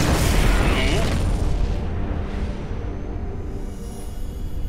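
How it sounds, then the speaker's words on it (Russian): Yamato cannon shots fired by battlecruisers in StarCraft II, a loud booming blast with crackling burst at the start that fades into a rumbling decay. "Крейсеры, активируйте пушки Ямато."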